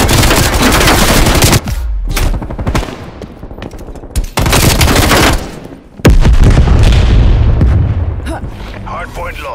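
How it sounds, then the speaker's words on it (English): Enemy sentry turrets in a shooter game fire loud rapid bursts, broken by short gaps and heavy booms, with a voice speaking between the volleys. "Multiple enemy sentry turrets."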